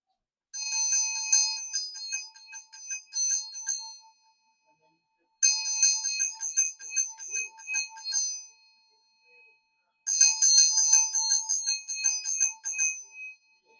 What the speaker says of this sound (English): I like the sound of that bell. It has a nice ring to it